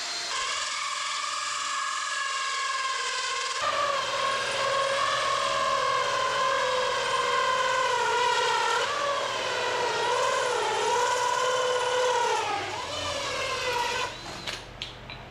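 A power tool with a cutter bit bores holes in a steel hood side panel for a 1934 Ford coupe street rat, a loud sustained whining drone that wavers in pitch for about ten seconds before winding down.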